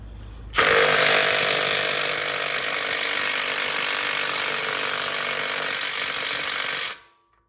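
An impact wrench hammers on the front axle nut of a BMW 335xi during an axle replacement, one loud continuous rattling burst of about six seconds that starts and stops abruptly, up close and with no talking.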